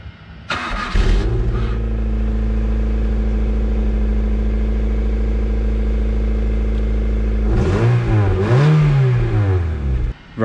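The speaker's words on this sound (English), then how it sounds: "Right, so that was the exhaust on the ek3 Civic." A Honda Civic EK3 engine with a newly repaired exhaust starts up and settles into a steady, deep idle close by, then revs up twice near the end before cutting off.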